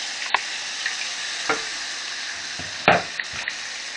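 Fruit added to dark browned butter in a pan, a steady soft sizzle broken by a few sharp clicks and scrapes of a utensil, no voices.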